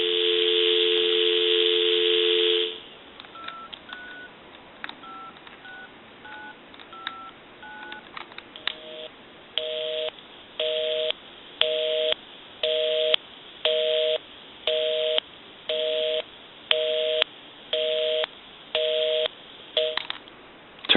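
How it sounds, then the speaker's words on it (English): AT&T 5.8 GHz EP5632 cordless telephone: a steady dial tone, then a quick series of keypad dialing beeps, followed by a repeating busy signal of evenly spaced on-off tone bursts, clean and close. "I'll call my number, and it'll be busy."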